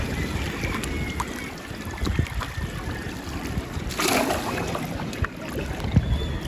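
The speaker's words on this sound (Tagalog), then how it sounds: "Yan yung dambuhalang bangka, bangkang Pangulong." A large Pacific outrigger fishing boat (bangkang pangulong) on calm sea, heard as a continuous low rumble with water wash and wind noise, a brief surge of splashing midway; no talk.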